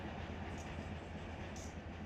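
AI-driven trains in Run 8 Train Simulator make a steady, dense rumble of rolling freight cars, loud and continuous without breaks, with a faint high hiss on top.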